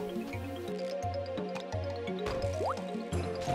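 Water is poured onto lava patches in the farming game Harvest Moon: Sunshine Islands, giving soft, repeated dripping and filling sounds with short rhythmic low tones and a rising chirp, quiet and without talk.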